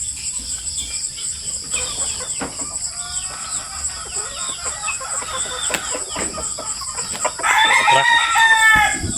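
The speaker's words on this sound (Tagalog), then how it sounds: "Yung ating pure na white kelso na binigay sa atin ni Sarah" A pure white Kelso rooster crows once loudly and close near the end, following a stretch of scattered clucks and farmyard bird chatter over a constant high insect-like hum.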